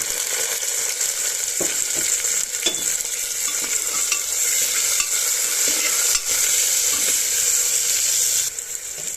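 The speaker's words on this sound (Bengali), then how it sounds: "আমি এখানে দিয়ে দেবো কেটে রাখা গাজর আর টমেটোটা" Chopped carrots and tomatoes fry with browned onions in a pan, giving a loud, continuous sizzle up close with occasional stirring clicks and scrapes throughout.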